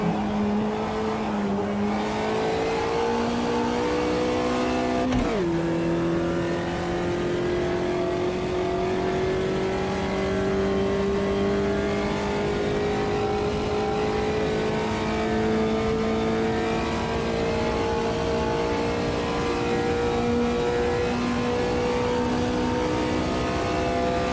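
Volkswagen Fusca race car engine in Automobilista 2, revving hard and loud throughout with a steady droning tone that drops sharply once as it shifts down a gear under braking, then climbs slowly again.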